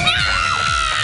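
A studio audience at an NRJ radio show cheers and shouts loudly for a celebrity guest's entrance, a steady, dense crowd roar throughout.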